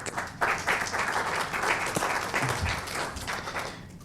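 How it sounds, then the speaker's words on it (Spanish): Audience applause at a climate dialogue results presentation, a dense, steady patter of many hands clapping for about four seconds at close range, fading slightly at the end. "un aplauso"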